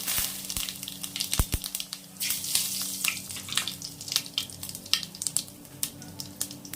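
A bay leaf and whole cumin seeds hit hot oil in a pan, producing crackly sizzling with sharp pops and spits over a steady hiss, fairly close.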